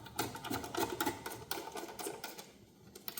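Phillips screwdriver working four screws out of an Apple Disk II floppy drive, a steady run of small close metallic clicks and scraping ticks with no talk.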